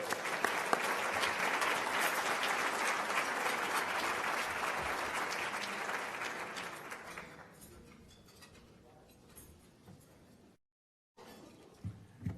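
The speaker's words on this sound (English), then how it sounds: "Let's have another round of applause for all our winners today." Applause for winners at a National Small Business Week event in Arlington, Texas: a large audience claps loudly and steadily for about seven seconds, then the sound thins to scattered claps and room noise before a brief silence.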